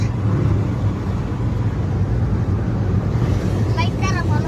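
A car cruising at about 120 km/h on the Samruddhi highway gives a steady, loud roar of wind and road noise from inside the cabin, with a brief muffled voice near the end.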